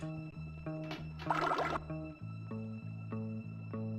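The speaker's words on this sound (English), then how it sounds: "It's like a water sound effect." A watery splashing, squishing effect from the Bully video game on Wii, running in glitched, corrupted form: one brief noisy burst in the middle of a steady, tonal game melody.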